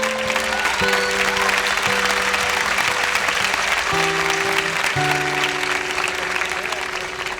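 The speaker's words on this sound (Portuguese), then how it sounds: "Pode aplaudir o Senhor, cara." A congregation in church bursts into full, sustained applause while held keyboard chords ring underneath, the clapping steady and loud from start to finish.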